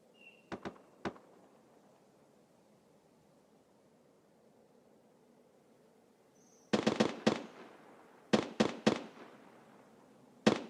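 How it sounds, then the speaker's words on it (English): Gunfire in the shooter game Escape from Tarkov during a winter event, a few faint distant shots early on, then several loud rapid bursts close together after a stretch of quiet ambient noise. "Wherever he's shooting from over here."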